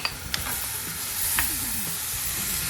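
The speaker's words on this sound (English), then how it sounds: "Add ginger and the mutton to the browned onions." Mutton and ginger frying in a pan with browned onions: a steady hiss and sizzle with a few sharp scraping stirs and clinks of a spoon, close and alone.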